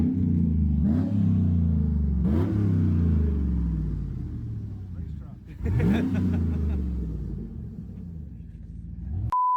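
A car engine revs hard against the first-gear limiter in repeated rising bursts, close and loud, with the pitch climbing and bouncing off the cutoff several times before dropping back.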